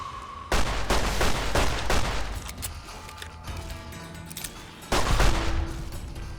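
Gunfire in Fallout New Vegas: a rapid fusillade of loud, close shots rattling for several seconds, then a pause and a second heavy burst near the end, with no talking.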